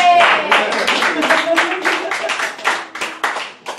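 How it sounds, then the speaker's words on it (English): Audience applause at a stand-up comedy show, a short burst of clapping from a crowd that starts loud and gradually thins out, with a voice talking over it. "I know, easy applause"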